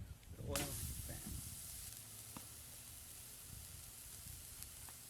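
A burger patty made from extra lean ground beef hits an oiled frying pan with a sudden hiss, then a faint steady sizzle continues quietly, with brief soft knocks.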